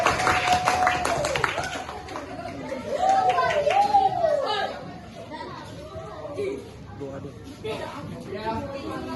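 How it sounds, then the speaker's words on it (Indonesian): Children in a classroom clap and chatter together after a lesson, a lively mix of small-group applause and overlapping young voices under a teacher's talk. "tepuk tangan untuk semuanya orang ini"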